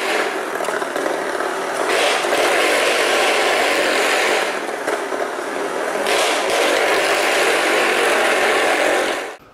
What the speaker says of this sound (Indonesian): tong setan ada motor muter-muter dalam tong